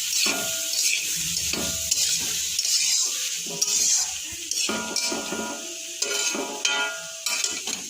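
Vegetables for homemade chowmein stirred in a pan, the spatula scraping and clinking against the metal in repeated strokes over a steady close sizzle of frying.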